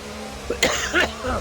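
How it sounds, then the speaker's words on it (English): A single short cough breaks out, followed by a brief throat-clearing sound, close and fairly loud against a faint steady background. "Sorry for coughing again."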